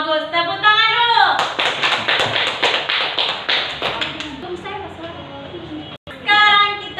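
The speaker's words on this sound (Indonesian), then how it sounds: "Tepuk tangan dulu." Primary school pupils in a grade IV classroom at SDN 5 Limboto clap their hands together in a quick rhythmic pattern of about a dozen sharp claps, then voices take over.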